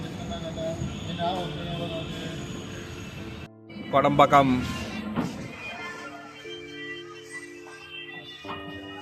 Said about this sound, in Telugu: సో ట్రైన్ మ్యాక్సిమం స్పీడ్ వచ్చి 80 వరకు తీసుకెళ్తున్నాడు